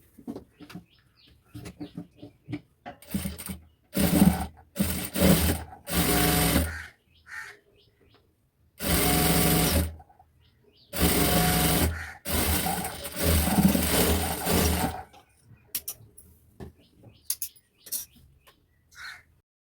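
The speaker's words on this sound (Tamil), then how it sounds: "இந்த மாதிரி ஸ்ட்ரைட்டாக தையல் போட்டுருக்கோம்னா நமக்கு வந்து சைடில் வந்து தையல் போட்டு முடிச்சாச்சு" A sewing machine stitches the side seam of a lined blouse in several loud bursts of rapid whirring, separated by quiet pauses with faint handling sounds.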